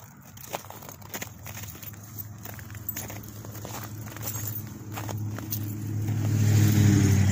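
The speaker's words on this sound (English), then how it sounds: "Waiting on these cars to go by." Cars passing on a road, a low engine rumble that builds steadily and grows loudest near the end as a vehicle draws close, with faint crunching footsteps mixed in.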